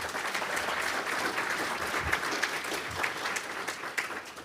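A comics forum audience applauds event staff with dense, sustained clapping that fills the room evenly throughout, fairly loud and unbroken, with no talking over it.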